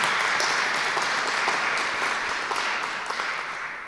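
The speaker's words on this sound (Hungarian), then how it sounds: "de ha nincs itt, akkor is tapsoljuk meg" Sustained applause from an audience at a university science festival opening ceremony, a dense, steady clatter of many hands that tapers slightly toward the end.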